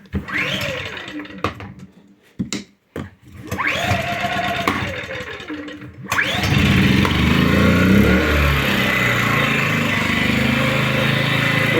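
A portable power generator on an apartment balcony cranks with a few stuttering pull-start bursts and short pauses, then catches and runs as a loud, steady, close engine drone.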